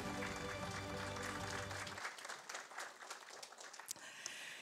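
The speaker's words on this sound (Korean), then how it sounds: "원장님께 다시 한 번 더 큰 박수 부탁드리겠습니다." Applause from the audience at a Korean cybersecurity results presentation, fairly faint and distant, rising over a fading musical tone and then thinning out toward the end.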